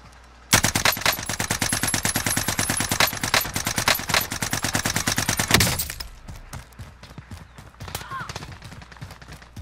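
Rapid automatic gunfire rattles nonstop for about five seconds in a military video game, loud and dense, then thins to scattered single shots.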